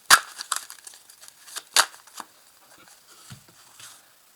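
Marseille tarot cards handled and laid down, giving a few sharp papery slaps and rustles near the start and around the middle, then softer shuffling that fades out.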